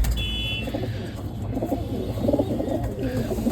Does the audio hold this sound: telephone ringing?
no